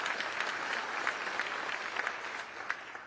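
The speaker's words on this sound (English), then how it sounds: "You can clap at that." Applause from the audience at E.J. Thomas Hall during the Akron mayoral swearing-in ceremony, a broad wash of clapping from a large crowd, moderately distant and steady, fading slightly near the end.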